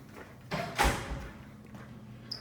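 A school door swings open and shuts with a couple of close thumps and a rattling latch near the middle, followed by quieter room tone in a hallway by the gym.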